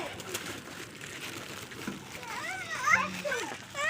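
Pigeons coo faintly amid background chatter and voices during hot weather, with a splash of water and outdoor ambience.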